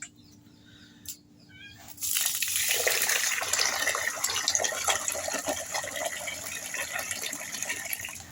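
Water pours over rice in a vessel for soaking and washing, a loud, steady splashing gush that runs without a break for about six seconds. It follows a quieter opening with a couple of short meows from a cat nearby.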